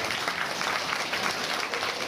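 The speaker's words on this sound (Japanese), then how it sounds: "みんなで秀明にも拍手を送ろうぜ" Applause from an audience at the Turtle Talk show at Tokyo DisneySea, dense continuous clapping that stays loud and even throughout, filling the room with no voice on top.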